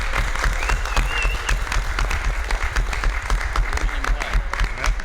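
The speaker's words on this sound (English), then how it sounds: "And a huge round of applause to Susan and Tommy Neal." An audience at a UFO conference gives a round of applause: close, dense clapping with sharp individual claps and some voices mixed in, holding steady the whole time.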